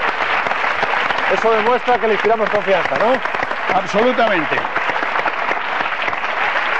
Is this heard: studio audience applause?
yes